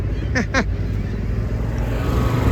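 Cranes in a farm field being worked for spring seeding give two quick, loud, rising honking calls close together near the start. A steady low tractor-engine rumble runs underneath throughout.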